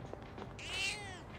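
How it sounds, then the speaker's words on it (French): A cat in the video game Persona 3 Reload lets out a single drawn-out meow, faint and alone over a soft background hum. "Miaou. Ce chat a l'air d'avoir faim."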